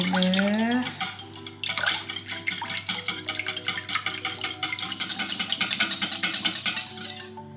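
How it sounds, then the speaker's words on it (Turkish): A spoon stirs leek börek filling in a bowl in quick, rhythmic scraping strokes, close and fairly soft, after a brief bit of speech at the start. "harcımızı da karıştıralım şöyle"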